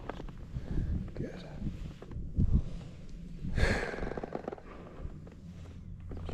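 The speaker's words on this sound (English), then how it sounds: "Hopefully you guys just heard her exhale." A young filly lets out a long, breathy exhale with a soft snort, close to the microphone, amid quiet rustling and faint movement during a ride.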